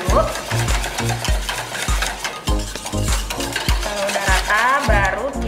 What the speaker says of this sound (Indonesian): untuk membuat pudingnya ini kita harus aduk dia sampai rata dulu.